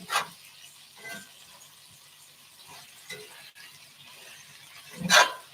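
Water hitting a hot pan while cooking brunch gnocchi with wilted greens, giving brief hissing sizzles at the start and a sharp loud sizzle burst near the end over a quiet, steady pan hiss.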